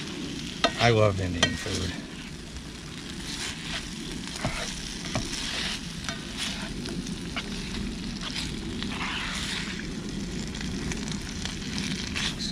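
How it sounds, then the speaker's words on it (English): An Indian-style spiced mixture with cumin is stirred in a pan on an RV stove, giving a continuous soft sizzle with repeated scraping strokes; someone speaks briefly near the start, then the stirring and frying carry on alone. "Now we're going to mix it up. Mix it all up in there."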